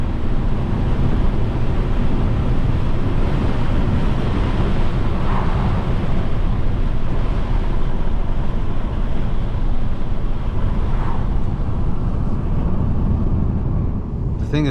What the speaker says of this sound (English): the wind is just so relentless at that speed